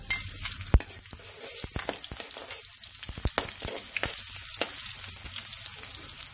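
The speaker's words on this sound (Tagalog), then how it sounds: "nagpainit na ako ng kawali at lalagyan natin to ng cooking oil. Unahin natin ang sibuyas." Onions go into hot cooking oil in a heated kawali for pancit canton, giving a constant bright sizzle and crackle. Sharp scrapes and clinks of a utensil cut through the sizzle; no talking.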